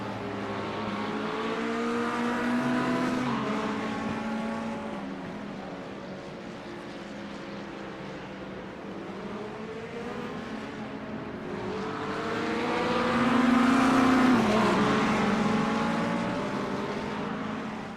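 GT3 race cars at the Nürburgring GP circuit, engines roaring past in two long swelling passes with shifting revs, loud and continuous with no talk.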